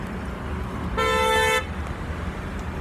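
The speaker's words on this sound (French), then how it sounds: "Le mec, il klaxonne, il sait pas pourquoi il klaxonne." Car horn honking in traffic near a roundabout, one loud sustained blast of about half a second standing out over steady road noise, with no talking.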